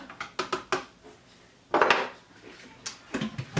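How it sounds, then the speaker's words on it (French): Spoon stirring berkoukes, small pasta pearls, in the bowl of a Monsieur Cuisine cooking machine, producing a series of close scraping clinks and rattles with a louder rough scrape midway; no speech. "Donc je vais venir quand même touiller un petit peu avant."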